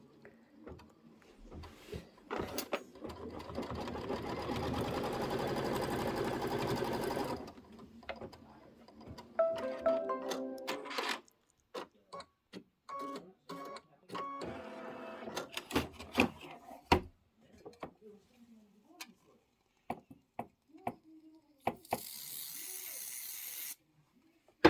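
An embroidery sewing machine stitches a quilt block for a Kimberbell dress form and cross stitch project, running in long steady whirring bursts broken by sharp clicks and pauses, close and fairly loud.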